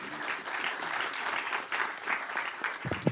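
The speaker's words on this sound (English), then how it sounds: "Please give them a round of applause." Indoor audience applause at a New York City mayoral event marking the 50th anniversary of the Office of Film, Theatre and Broadcasting; moderate, continuous clapping from a sizeable crowd, ending with a few closer, louder claps.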